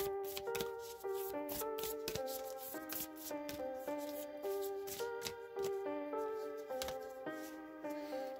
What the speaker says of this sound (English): now I'm just going to shuffle the Halloween Oracle deck